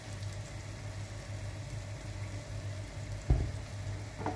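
Finely chopped tomatoes fry in a pan for dal tadka, giving a steady close sizzling hiss over a low hum, with one brief clunk of a utensil near the end.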